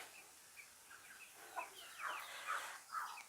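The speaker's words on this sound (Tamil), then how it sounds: "இது ஒல்லடியன் கோழி" Hollandian chickens clucking softly in a short sequence of close, quiet calls that grow a little louder toward the end.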